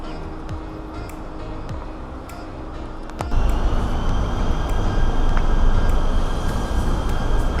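Low rumbling train noise in Malaysia that swells sharply midway into a loud, steady roar, with faint voices and clatter earlier.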